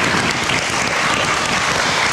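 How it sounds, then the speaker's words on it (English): A dense burst of applause from a church congregation welcoming a 10-year-old boy who comes up to read, loud and continuous, with no speech over it. "Give Braden a round of applause."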